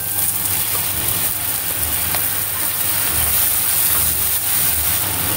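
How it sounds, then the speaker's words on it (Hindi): Blended tomato puree masala sizzles and fries in a kadai, a steady close hiss without pause and no talking. "और अब ये मसाला हम अच्छे से भूनेंगे इधर।"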